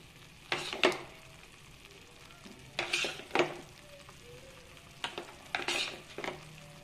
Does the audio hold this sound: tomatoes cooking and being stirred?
yes